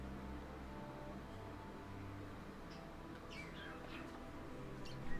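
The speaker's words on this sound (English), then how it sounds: "Hey, pretty bird." In the video game Hogwarts Legacy, a few faint, high bird chirps sound over a low ambient rumble, with short scattered calls arriving in the later seconds.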